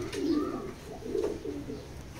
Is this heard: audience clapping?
no